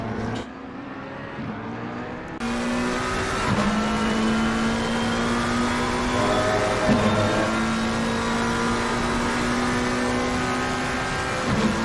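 A race car engine in a sim racing video game drones loudly and steadily through a tricky pair of corners taken just short of flat out, its pitch rising and dipping with gear changes, with no talk.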